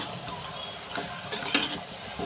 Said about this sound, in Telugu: కారం అయితే కొంచెం ఎక్కువగానే వేసామండి ఇవన్నీ కలిసేటట్టు అయితే కలుపుకోవాలండి